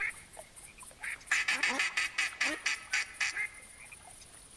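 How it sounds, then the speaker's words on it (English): Black ducks in a hunting video game quack in a quick run of repeated calls, fairly faint and alone, bunched in the middle of the stretch. "Bunch of black ducks."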